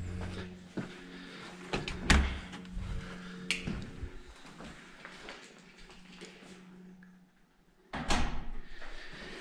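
The black-painted main entrance door of a renovated villa in Switzerland is opened, with a clunk of the handle and latch and a sharp knock, then a louder bang near the end, all close and with no talking.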